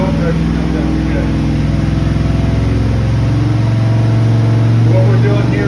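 A Big Block 460 engine on a dyno runs loud and close, cycling up and down between about 2,000 and 3,000 RPM in a steady, heavy roar that swells toward the end.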